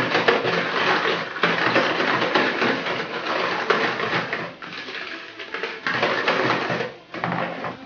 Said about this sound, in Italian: Mescoliamo con la frusta per togliere i grumoli.